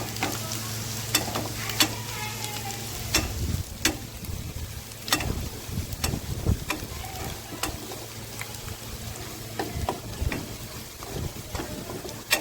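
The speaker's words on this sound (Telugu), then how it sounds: "మంచిగా కలర్ మంచిగా ఫ్రై కావాలి ఇవి" Baby corn fries in a pan while being stirred, a steady sizzle broken by repeated sharp scrapes and clacks of a spatula against the pan, close and fairly loud.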